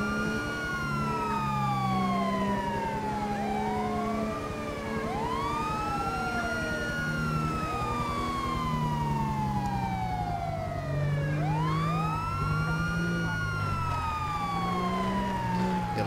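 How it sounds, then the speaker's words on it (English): A police car siren in the video game GTA 5 wails continuously, rising and falling in repeated sweeps over a steady engine and traffic rumble. It is loud and close throughout. "let's turn off our siren for right now."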